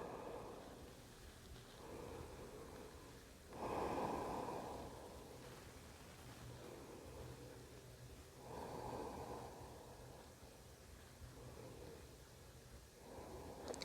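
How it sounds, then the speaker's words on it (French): Slow inhales and exhales during a resting yoga pose, soft airy breaths close by in a quiet room, two or three gentle swells of breath in steady rhythm. "Et inspire et expire."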